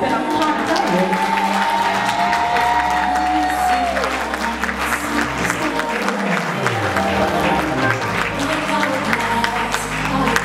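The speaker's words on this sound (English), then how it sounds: "Y'all can keep clapping," Reception guests keep up continuous clapping, a dense, steady patter of many hands mixed with scattered cheers over background music, with some talk mixed in.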